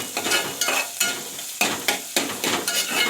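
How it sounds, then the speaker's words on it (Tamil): Onion and curry leaves sauté in a hot pan, giving a soft sizzle broken by repeated stirring scrapes from a utensil. The scrapes come in a loose rhythm, close and moderately quiet, with no talk. "வெங்காயம் கருவேப்பிலை நல்லா வதங்கணும்."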